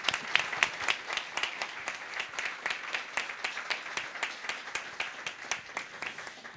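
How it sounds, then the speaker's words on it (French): Audience applause after a talk with personal testimonies, steady dense clapping from many hands, moderately close and evenly sustained throughout with no talk over it. "Je pense qu'on peut l'applaudir aussi."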